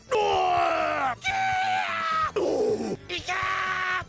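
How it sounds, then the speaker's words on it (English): Unused pain screams from echidnas in the video game Sonic Adventure: four loud, drawn-out cries in quick succession, each sliding downward in pitch like an anguished wail. "where it shows the echidnas getting wiped out by chaos, they were originally going to scream in pain."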